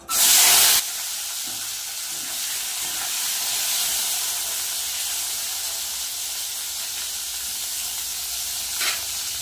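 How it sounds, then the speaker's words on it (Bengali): Sundori fish dropped into hot oil sets off a loud burst of sizzling, then a steady frying hiss that carries on evenly with a brief flare near the end. "তেল কিন্তু গরম হয়ে গেছে, সুন্দরীকে তেলের মধ্যে দিয়ে দেবো।"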